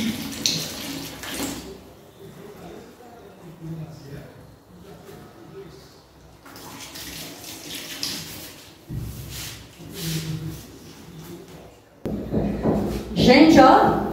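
Water poured into a mix for vinyl bedroom flooring and stirred, a low sloshing and scraping under people talking, with a louder clattering burst toward the end.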